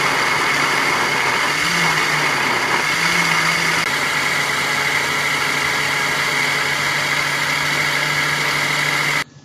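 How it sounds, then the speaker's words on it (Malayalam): Mixer grinder running steadily, grinding apple pola batter with cardamom for a Malabar Ramadan snack, a continuous loud motor whir with a brief shift in tone partway through before cutting off at the end. "ഇതിനെ നമുക്ക് അടച്ചു വെച്ച് നന്നായി അരച്ചെടുക്കണം"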